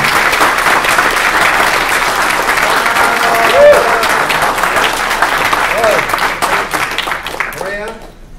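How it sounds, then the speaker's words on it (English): A room of attendees at a tech conference session claps in a broad, even burst of applause with a couple of cheers, tapering off near the end. "Let's give them a big round of applause."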